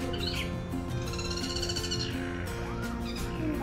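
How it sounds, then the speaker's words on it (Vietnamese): Bird calls at Zoo Atlanta, a few high chirping phrases rising over a steady hum of outdoor ambience, moderately close but not loud. "Ồ, có con chim đang đẩy nè các bạn."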